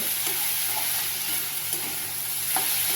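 Okra, chili and garlic are stirred in a sizzling pan, with a spoon scraping now and then over a steady close crackle of frying.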